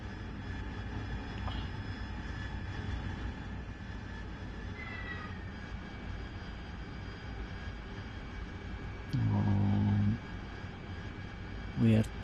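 A steady, droning AV-8B Harrier jet engine in the DCS flight simulator runs through the whole stretch, with a few brief tonal beeps and a short burst of cockpit sound near the end.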